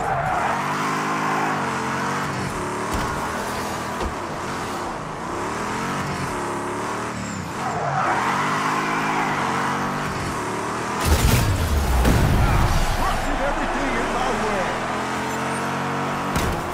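Car engines from the PS5 demolition game Destruction AllStars roar steadily with shifting revs, joined by a loud crash or skid burst partway through, all under continuous music and game commentary.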